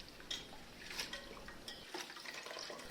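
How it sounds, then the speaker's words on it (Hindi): Chopped spinach being rinsed in a bowl of water: steady sloshing and splashing with small clinks of the vessel and light swirling throughout, close and moderately quiet with no talking. "तो हमने सारी पालक कट कर ली है और इसे अच्छे से धो लेंगे।"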